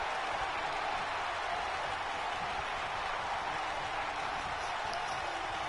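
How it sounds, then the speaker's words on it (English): Large crowd at a WWE wrestling event in Los Angeles, a dense, steady roar of cheering and applause filling the space at constant level with no breaks. "When you listen to this crowd, they're absolutely electric."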